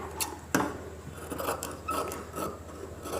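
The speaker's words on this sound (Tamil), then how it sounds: "இதை சுற்றி ஒரு 1/4 இன்ச்சு இருக்கிற மாதிரி துணியை கட் பண்ணி விட்டுடலாம்" Scissors snip through cloth while trimming a chudidhar collar neckline, a series of close, crisp cuts and rasping blade slides in a quiet room.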